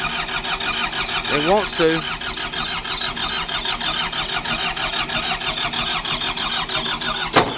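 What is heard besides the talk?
2011 New Holland L220 skid steer engine cranking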